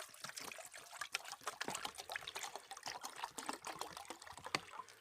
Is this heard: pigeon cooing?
no